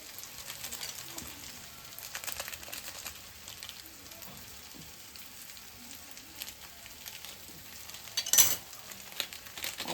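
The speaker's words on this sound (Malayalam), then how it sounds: "ഇതും കൂടി ഇട്ടിട്ട് നൂഡിൽസ് ഇളക്കിയെടുക്കാം." Maggi noodles with masala are stirred in a pan over a soft sizzle, with faint scrapes and clinks of a spoon against the metal.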